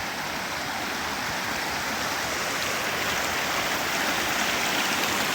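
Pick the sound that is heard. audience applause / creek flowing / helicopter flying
creek flowing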